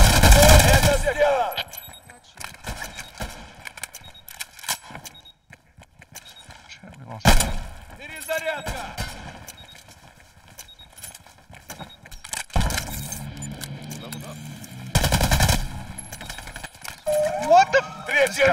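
Gunfire in the online shooter Hired Ops, including an SVDS rifle, cracks out in bursts and single shots across a busy match, mixed with game noise and players talking over it.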